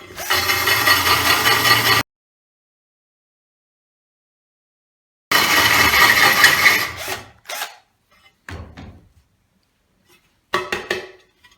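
A carbide holesaw grinds into a glazed ceramic tile in two bursts of steady rasping, each about two seconds long, separated by silence, followed by a few short scraping touches; nearby and fairly loud, with no talking.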